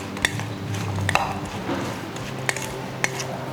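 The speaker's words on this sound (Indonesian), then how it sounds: "Kita aduk dulu." A utensil stirs sambal dabu-dabu with chopped tomatoes in a bowl, giving a few sharp clinks against the bowl between soft wet mixing, fairly quiet and with no talk.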